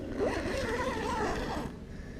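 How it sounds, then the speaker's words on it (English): A nylon zipper on a tent door being pulled in one continuous scraping stroke, close up, lasting over a second before trailing off into quiet. "That is a nylon zipper on the door."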